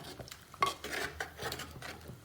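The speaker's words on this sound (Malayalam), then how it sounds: "ഈ മൺചട്ടിയിലോട്ട് വേവിച്ചു വെച്ചിട്ടുള്ള ചക്കക്കുരു എടുക്കാം" Boiled jackfruit seeds tipped into a clay pot while making jackfruit-seed pulissery, giving a few close clattering knocks and scrapes against the pot's sides, with no talking.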